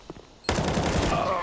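Rapid rifle fire in Counter-Strike: Global Offensive during an ESL One Cologne 2017 pro match on the Train map. A sudden loud burst of shots follows quiet murmuring, with commentator voices faintly under it.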